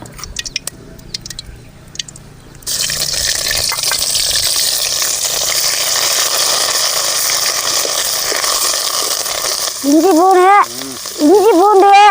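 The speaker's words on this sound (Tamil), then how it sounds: "இஞ்சி பூண்டு நல்லா பொரிஞ்சு போச்சு." Ginger garlic paste frying in oil for a tomato kurma, a steady loud sizzle that starts abruptly after a quieter opening, with a few higher tonal sounds near the end.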